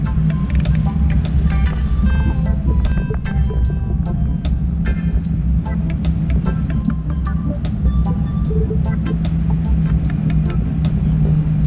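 Night traffic on a busy Manila road heard from a bicycle: a constant low rumble of passing cars and engines, close and loud, scattered with sharp clicks and faint horn-like tones.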